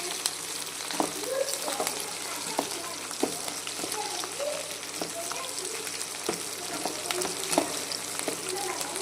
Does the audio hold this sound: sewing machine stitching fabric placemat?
no